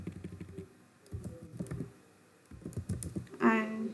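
Login details being typed on a computer keyboard, close bursts of rapid key clicks with short pauses between them, ending in a louder clack.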